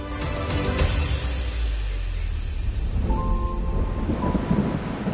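Rain falls on a rainy day along the main Sudetes trail in southern Poland, a loud, dense, continuous hiss over a deep low rumble that carries on without a break and with no voices.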